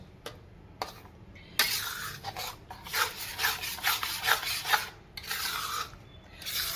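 A spoon stirs a hot mohanthal mixture of gram flour in a pan, making close, continuous rubbing and scraping strokes in short bursts that swell and fade.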